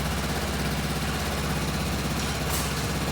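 A Kawasaki Versys 650 motorcycle engine idles at a low, steady rumble, fairly quiet and even throughout, with no voices.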